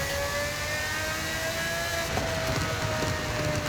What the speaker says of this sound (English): It's so loud and high-pitched. It's exactly how a V12 race car should sound.